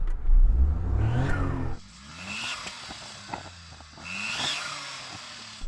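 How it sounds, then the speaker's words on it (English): A small car from a drag race of tiny cars revs hard with a rising engine whine, then drops back to a quieter idle punctuated by a few sharper throttle blips. "Daniel, go on, rev up your car"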